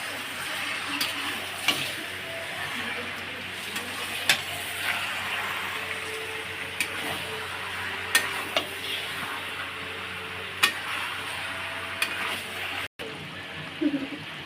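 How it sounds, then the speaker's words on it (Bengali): Chicken meat fries in spiced oil in a pan, a steady close sizzle with periodic clicks and scrapes of stirring, a voice briefly heard near the end. "মাংসটা দিয়ে দিচ্ছে।"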